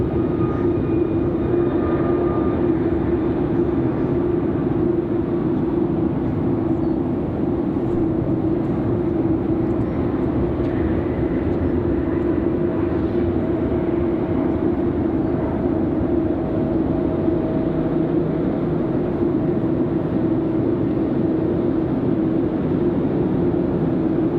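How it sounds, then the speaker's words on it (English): Executive jet arriving from DC to land at Raleigh-Durham International, a steady broad engine roar with a sustained low hum, loud and unbroken throughout with no voices. "Got an Exec jet coming in from DC right now."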